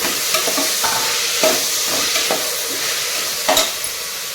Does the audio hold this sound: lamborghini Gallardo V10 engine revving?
no